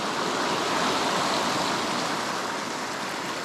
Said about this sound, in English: This river's moving about 3 to 4 feet a second, hence the rapids, the white water.